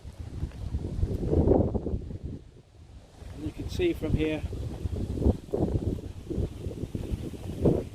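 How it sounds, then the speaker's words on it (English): Gusty wind buffets the microphone in low rumbling surges while someone talks over it outdoors in the village of Hythe. "The weather's not good today, bit windy."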